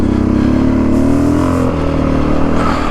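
A dirt bike engine revs hard while climbing a steep trail in Nez Perce-Clearwater National Forest in Idaho, a loud, close, continuous motor whine with a rising pitch.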